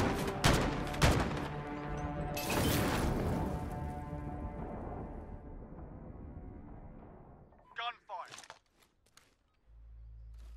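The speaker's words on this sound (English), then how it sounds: "Gunfire." Dense bursts of gunfire and explosions in a Call of Duty: Modern Warfare 2v2 match fill the first several seconds, fading into quieter sparse pops and a low rumble near the end.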